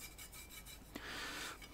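Scraping and rasping on aluminum around freshly drilled holes in a tube amplifier chassis being cleaned up, a steady close scratching that swells louder in the second half with one sharp tick.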